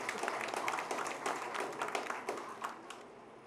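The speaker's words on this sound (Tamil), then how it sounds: "அவர்களுக்கு ஒரு பாராட்டுதலை நாம் கரகோஷன் மூலமாக தெரிவித்துக் கொள்வோம்" Steady crowd applause for the Akshaya Trust founders at the opening of a free old age home, dense overlapping claps at moderate volume that ease off slightly toward the end.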